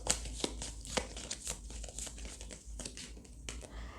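Tarot cards being handled and shuffled, a quick series of soft crinkling flicks and papery snaps, close and fairly quiet.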